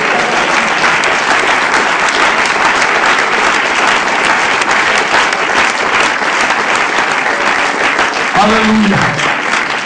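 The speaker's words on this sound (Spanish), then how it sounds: "¿Cuántos dan un aplauso al redentor?" A congregation at a church service applauds loudly and steadily for the full stretch, a dense wash of clapping with a single voice calling out near the end.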